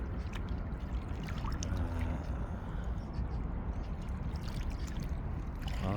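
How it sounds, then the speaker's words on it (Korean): Han River water laps softly against a sandy riverbank, a quiet, continuous wash of small ripples and trickles with no talking over it. "이 물결 소리 한번 들어보시죠. 한강 물결 소리, 이거 듣기 쉽지 않지 않습니까?"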